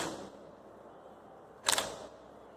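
An SLR camera's shutter fires as the mirror flips up, one crisp, close mechanical clack with a quick double snap, heard alone in a quiet room.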